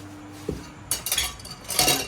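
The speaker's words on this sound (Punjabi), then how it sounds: "ਬਸ ਅਜੇ ਭਾਂਡੇ ਉਹ ਦੂਆ ਭਾਂਡੇ ਧੋ ਰਿਹਾ ਇਹ ਦੇਖੋ" Dishes and pots are being washed, with a few scattered metallic clinks and clatters of cutlery and utensils at close range and no talking.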